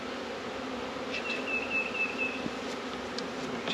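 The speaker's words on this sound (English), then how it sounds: "So, lots of bees." Bees hum and buzz around a hive at a vineyard, a steady close drone with a brief higher whine passing through partway.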